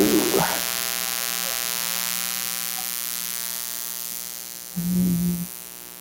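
An electric wood burning tool runs with a steady low electrical hum and buzz, with a short louder buzz near the end and a faint handling noise at the start.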